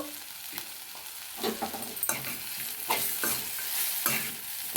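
Brinjal fry with pounded green chilli powder being stirred in a pan: a close, continuous sizzle broken by repeated scraping stir strokes at an uneven rhythm.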